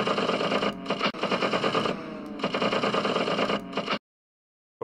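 Sustained machine gun fire from aircraft in the Sky Gamblers Storm Raiders video game, loud dense rapid bursts with brief gaps, ending abruptly in silence.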